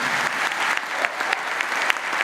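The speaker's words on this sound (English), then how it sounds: "I think that deserves another round of applause." An audience at a Murdoch University graduation ceremony in Dubai breaks into a steady round of applause, many hands clapping in a dense, even wash with a few sharper claps popping out, sustained throughout.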